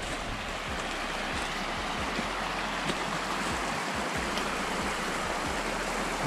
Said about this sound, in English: I'm gonna jump down here to the creek.